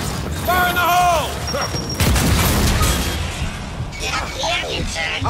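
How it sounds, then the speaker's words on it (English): A grenade goes off in the video game Gears 5, a sudden burst and rumbling boom in the middle of the clip, surrounded by shouted character voices and gunfire-like combat noise. "Fire in the hole!"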